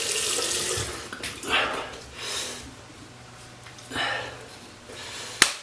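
Tap water runs into a sink while a razor is rinsed under it, a soft, close splashing that swells and fades in short bursts, ending with a sharp knock.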